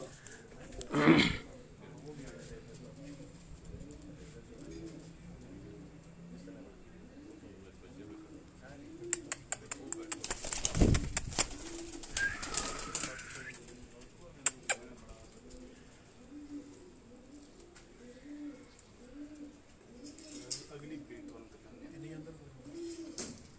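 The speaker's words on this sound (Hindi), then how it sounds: "ये उनकी टोपी वाली ब्रीड के ये जो कबूतर हैं" Crested pigeons coo in a steady repeating rhythm close by on a rooftop, soft throaty calls running throughout, with a few louder bursts of noise and flutter in the middle.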